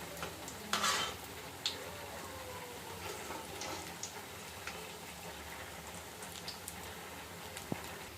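Alasanda vada, black-eyed pea fritters, frying in hot oil, a soft continuous sizzle with occasional stirring clinks and pops, quiet and steady.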